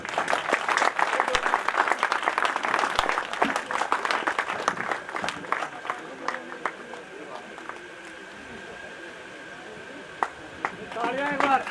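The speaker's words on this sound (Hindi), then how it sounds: "जोर से तालियां बजाए।" A crowd at a gathering claps loudly and densely for about six seconds. The applause then thins to scattered claps over quiet murmuring, with a few claps returning near the end.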